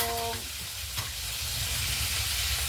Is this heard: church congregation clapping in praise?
no